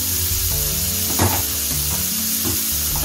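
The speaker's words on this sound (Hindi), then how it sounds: "प्याज को ज्यादा नहीं भूनना, बस हल्का सा इसको करना है सोटे तेल में" Onions frying lightly in a little oil for dhokla, with a continuous close sizzle and a few scraping stirs of a spoon against the pan; a steady tone hums underneath.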